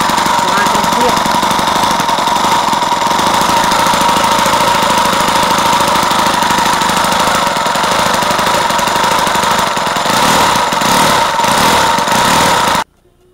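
A homemade small four-stroke engine with a makeshift exhaust runs loud and steady at close range, a constant buzzing drone that continues without a break and then cuts off abruptly just before the end.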